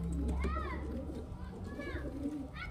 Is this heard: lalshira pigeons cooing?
yes